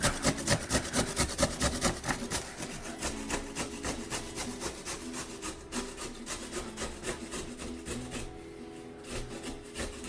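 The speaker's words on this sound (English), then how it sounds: "It'll peel itself while you grind it down" Fresh ginger is grated in quick, regular rasping strokes, a close scraping rhythm that keeps going steadily without any talking.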